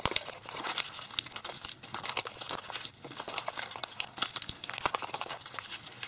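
Sheets of origami paper crinkle, crease and rustle continuously up close as an Iimori snowflake is folded and flattened, with sharp crackly bursts of paper noise and no talking.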